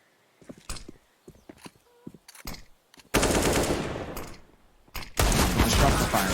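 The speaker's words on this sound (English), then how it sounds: "The shots are fired." Automatic gunfire from a Counter-Strike match on the Inferno map, first scattered single shots and clicks, then two loud sustained bursts of rapid fire close by.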